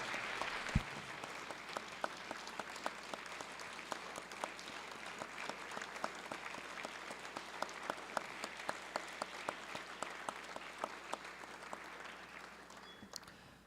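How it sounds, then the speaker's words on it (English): Standing ovation in a House chamber: sustained, even applause from a seated-then-standing assembly, steady clapping from start to finish with crisp individual claps audible near the front, fading slightly at the end. "let's give them another round of applause. A standing round of applause"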